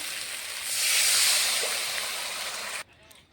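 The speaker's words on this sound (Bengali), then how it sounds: "এখন দিয়ে দেবো পরিমাণ মতন একটু জল।" Water poured into a pan of fish curry masala cooked in oil, a rushing hiss that swells and holds for a few seconds before cutting off abruptly into quiet, close by with no talking.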